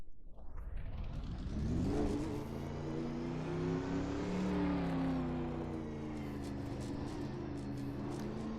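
A GT3 race car with a 5.0 V8 at Suzuka in the iRacing sim climbs through a long rising rev, eases briefly, then holds a sustained high-pitched engine drone with no voices.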